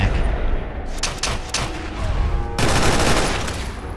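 Rapid bursts from a fast-firing gun in Fallout 4, loud and close, sharp repeated shots with a brief pause and then a dense renewed volley.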